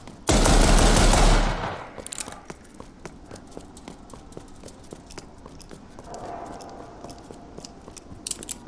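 A rapid-fire weapon in Resident Evil Re:Verse lets off one loud, dense burst of roughly a second and a half, followed by quieter scattered clicks and faint ambient game noise.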